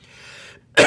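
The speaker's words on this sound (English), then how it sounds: "Why am I coughing?" A single short cough, sharp and close, after eating hot Pringles chips, following a quieter breathy moment.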